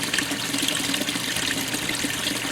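Water rushes steadily into the tub of a GE washing machine, a dense, continuous splashing flow heard up close and fairly loud throughout.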